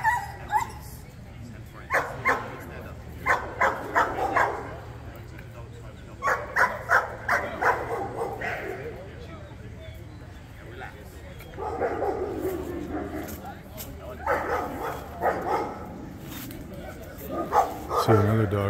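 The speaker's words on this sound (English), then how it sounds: "another dog came down the trail and it freaked out this dog" On a trail, a rescue dog gets upset when another dog appears, giving repeated bursts of barks, yips and whimpers in uneven clusters, fairly close and loud.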